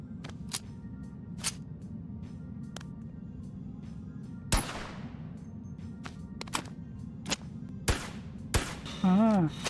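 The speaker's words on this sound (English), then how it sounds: "I'll shoot this guy in the head." Gunshots in the VR shooter Boneworks: a handful of sharp, fairly close cracks spaced irregularly over a low hum of background game noise, with a short tonal warble near the end.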